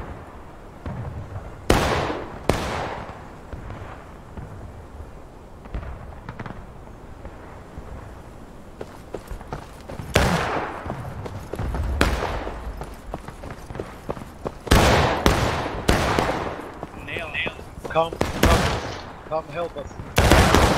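Musket volleys in the Civil War shooter War of Rights, loud sharp cracks arriving singly and in clustered bursts, some near and some distant, with brief voices and lulls between shots.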